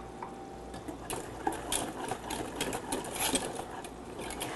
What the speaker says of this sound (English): I'm going to start using my whisk